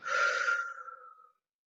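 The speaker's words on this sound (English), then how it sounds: "Breathe out." A single soft, breathy exhale in a singing lesson warm-up: close and fairly faint, fading out over about a second and a half, with no voice.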